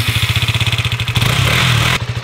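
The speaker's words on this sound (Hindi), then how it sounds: "थोड़ी देर स्टार्ट छोड़ देते हैं बिकॉज बहुत टाइम से चली ही नहीं है।" A scooter engine that has sat unused for a long time is left running after starting, giving a loud close putter with a fast, even pulsing beat and a brief rise in revs midway.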